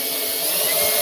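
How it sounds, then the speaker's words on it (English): Power drill boring holes straight through the body of a fire truck, a loud, steady high-pitched whine held continuously from start to finish with no voices. "I'm just gonna drill some holes straight through the truck."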